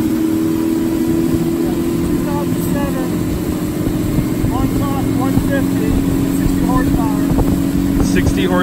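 A 60 hp outboard engine pushing a 2007 Boston Whaler Montauk 150 with an 11-pitch prop across Utah Lake, a steady loud drone with wind buffeting the microphone, while people talk over it throughout.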